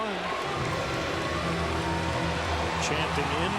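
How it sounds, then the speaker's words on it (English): A baseball crowd at Citi Field during a Cubs at Mets game chants in a rhythmic, sustained roar, the voices blending into a loud continuous tonal swell that fills the stadium without pause. "Chanting MVP."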